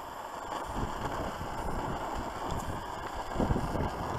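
Wind blows steadily across an outdoor desert setting, a continuous broadband rush with gusty buffeting on the microphone and no clear pauses.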